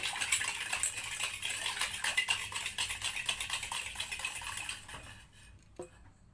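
Sugar being stirred into milk in a bowl for an eggless, flourless vegetarian cake, a close, busy run of spoon clinks and scraping against the bowl that stops abruptly near the end, with one last faint tap.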